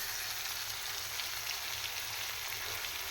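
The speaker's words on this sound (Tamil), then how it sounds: "எண்ணெய் ஊற்றி கடுகு போட்டு நாலு உளுத்தம்பருப்பு போட்டிருக்கேன் வாசனைக்கு பூண்டு போட்டிருக்கேன் வெங்காயம் போட்டிருக்கேன் வதக்கிட்டுருக்கேன்" Onions and garlic frying in oil with mustard seeds and a few urad dal, a faint, steady, hissing sizzle that runs evenly throughout with no voices.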